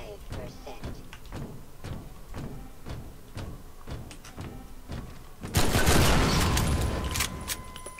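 Half-Life 2 gunfire: a steady run of sharp shots cracks at a regular rhythm, then an explosion bursts loud and broad, its roar lingering and crackling for a couple of seconds.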